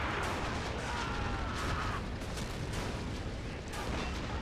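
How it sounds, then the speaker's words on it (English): Heavy artillery barrage from battleships in a World War II Pacific battle game set on Tarawa Atoll, a dense continuous roar of overlapping blasts and rumbling impacts, loud and sustained throughout with no pauses. "Battleship barrage."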